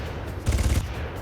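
A short burst of rapid gunfire in the video game Far Cry, a quick rattling run of shots lasting under half a second against a steady background hum.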